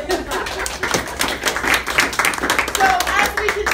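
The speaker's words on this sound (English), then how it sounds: "Everyone give him a clap." An audience at a business networking luncheon in Nashville claps for a few seconds, a patter of hands mixed with chatter and a little laughter, with a voice speaking over it.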